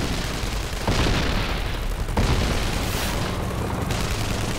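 A dynamite blast breaching perimeter wire at a base: heavy, broadband booming bursts that hit hard near the start and again midway, with rumbling roar sustained throughout, loud and close.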